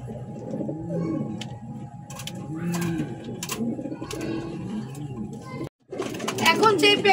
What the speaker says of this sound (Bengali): এখন যে পেয়ারটি দেখাচ্ছি গোল্লা কবুতর রানিং পেয়ার।